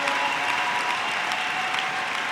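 A church congregation bursts into steady, dense applause, a continuous wash of clapping hands filling the space close and loud with no break.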